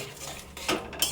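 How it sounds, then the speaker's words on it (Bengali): A metal utensil stirs ghugni in a pan, giving a few quick scraping clinks and clatters in a short burst, close by and with no talk. "তারপর এটাকে ভালো করে নেড়ে নেবো"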